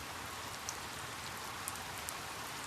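Steady rain falls in a dense, even hiss, soft and continuous, with a few faint sharper drops standing out now and then and no talking.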